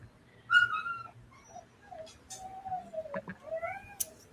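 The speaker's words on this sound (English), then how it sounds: "That's my dog. He's crying." A dog cries and whimpers in a series of high, wavering whines and short yelps that rise and fall, moderately close in a quiet room with no talking.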